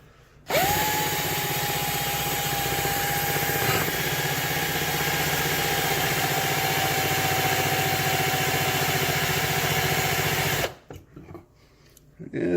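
A power drill with a Black & Decker bit grinds steadily through an American Lock Series 30 padlock for about ten seconds, loud and continuous with a high whine, then stops abruptly, followed by faint handling noises.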